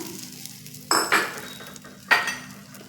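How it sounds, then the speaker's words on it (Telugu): Tempering spices are dropped into hot oil in a pan for a nalleru, cucumber and tamarind recipe, giving three short, bright sizzling bursts over a quiet background, with faint stirring between them. "తాలింపు వేసుకున్నాను."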